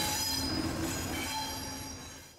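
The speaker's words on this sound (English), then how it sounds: "The tight track bends also give rise to significant wheel sweep, as you can hear." Railway coaches rounding tight track bends give off a loud, continuous high-pitched wheel squeal over a rumbling roll. The squeal is close and sustained, then fades as the train passes.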